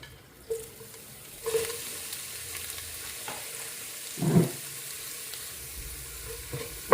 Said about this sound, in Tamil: இப்போது எண்ணெய் காஞ்சிடுச்சு. முதல்ல நான் வடவை போடுறேன்.